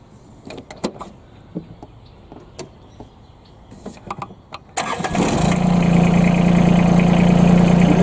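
A tractor in a yard fires up after a few seconds of scattered clicks and rattles: a short crank catches, and the engine settles into a loud, steady, close droning idle that runs to the end, with no talking.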